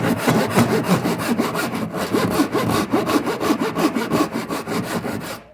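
A pull saw, Irwin or ToughBuilt folding type, cuts through clamped wood in steady rhythmic strokes, each rasping pass close and loud, repeating about twice a second without pause.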